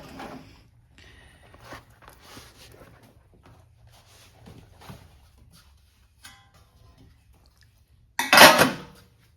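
Metal rocker arms, stands, adjusters and hardware set into an ultrasonic cleaner, heard as soft scattered metallic clinks and knocks, ending in a loud close clatter.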